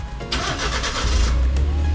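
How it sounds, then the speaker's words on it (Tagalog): Suzuki Every Wagon Sporty Edition 4WD engine cranking briefly and catching, then settling into a steady, close idle with a low hum. "So start natin yung makina natin."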